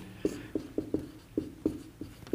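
A pen writes on paper in short, regular scratching strokes, about eight distinct taps and scrapes in quick rhythm, close and fairly quiet, with no talk over it.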